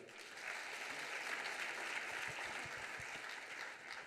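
Audience applauding students at a French awards ceremony, a continuous, even wash of clapping from a crowd at moderate distance, with no voices over it.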